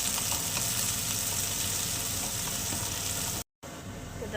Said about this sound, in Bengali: পেঁয়াজ আর রসুনটাকে একটু ভেজে নেব।